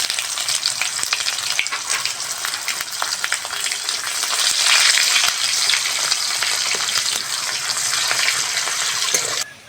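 Chopped onion hits hot oil with panch phoron spices for a rohu fish curry, giving a loud, continuous sizzle with bursts of crackling as it fries.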